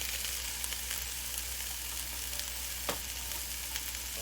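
Boneless chicken pieces fry in a pan with a steady, dense sizzle and crackle that stays even and close throughout, with one faint clink partway through. No one speaks.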